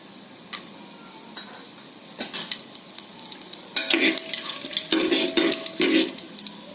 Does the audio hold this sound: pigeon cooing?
no